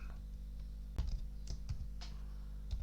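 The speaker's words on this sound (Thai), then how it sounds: "พิมพ์คำว่าหมู่ที่ลงไปนะครับ" Keystrokes on a computer keyboard while entering text in an Excel spreadsheet: a few scattered, quiet clicks over a steady low hum, no talking.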